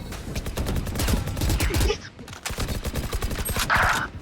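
Rapid automatic gunfire in the video game Valorant empties a magazine in dense, loud bursts, with a brief lull and then more shots and game effects close up.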